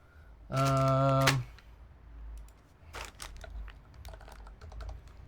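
Quick bursts of key clicks come from a clicky mechanical keyboard fitted with Unixi Box White V2 switches, sharp and close, in short clusters with pauses between them. A brief tone sounds before the first burst.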